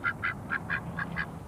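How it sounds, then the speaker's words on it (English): A duck quacks six times in an even, fairly quick series, clear and close over a faint low background hum, in a 1979 children's television scene. "Well, Hartley, a duck is a kind of bird, so a quack is a bird call, isn't it?"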